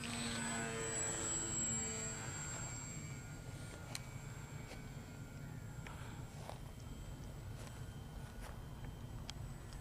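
A Multiplex Hummel RC model plane with a left-handed 8 or 9 inch prop drones steadily in the evening air at moderate distance, its engine tone fading slightly as scattered faint ticks and rustles sit beneath it.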